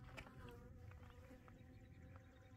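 Hoverflies buzz in a steady, faint drone with soft fluttering pulses along the Arizona Trail, the hum continuous and close with no talking.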